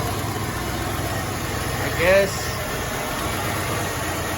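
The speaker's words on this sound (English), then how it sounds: "you hear the car purring" A Chevrolet Impala engine idles steadily after a year unused, a low, even rumble running throughout, with someone speaking briefly over it.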